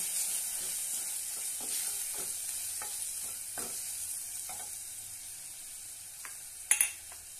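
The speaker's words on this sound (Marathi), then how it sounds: "अर्धा चमच काळा मसाला, आता छानपैकी परतून घेऊया" Black masala spice, with salt, sautéing in a pan for a masoor pulao, giving a steady close sizzle broken by the scrape and clink of a stirring spoon, with a sharper double knock near the end.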